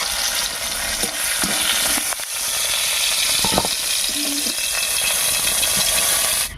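Raisins frying in oil left over from frying pointed gourd, a steady close sizzle with a few light stirring clinks and scrapes, no talking.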